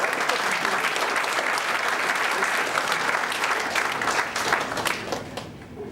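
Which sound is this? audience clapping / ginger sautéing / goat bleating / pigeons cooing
audience clapping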